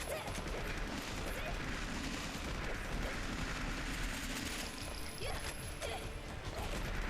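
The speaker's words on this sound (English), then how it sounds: "Sometimes, if I time it right, I can shoot faster, with less break in between" Rapid gunfire from the video game Onechanbara: Bikini Zombie Slayers, a dense run of shots over steady game noise and music, fairly loud throughout.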